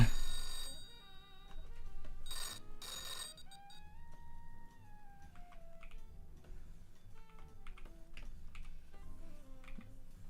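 Telephone rings in repeated bursts of electronic trilling over a steady low musical underscore, then falls silent while soft melodic tones and faint ticking continue.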